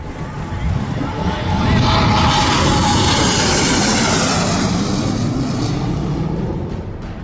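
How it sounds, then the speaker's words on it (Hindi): Air Force jets roar steadily at a 3.5-kilometre expressway airstrip used for landings and take-offs by Sukhoi, Jaguar and Mirage aircraft, a loud, sustained engine rush that swells and holds for several seconds. "इस एयर स्ट्रिप पर 3 बार एयरफोर्स के जाबाज सुखोई, जगुआर, मिराज मालवाहक विमान को लैंड और टेक ऑफ करा चुके हैं"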